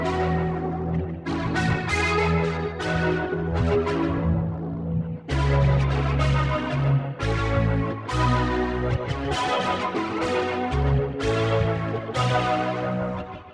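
An electric guitar runs through an octave pedal, chorus and tape delay, playing a song in a distinctive tone. Full, thick chords and deep low notes ring steadily, with no voice over them.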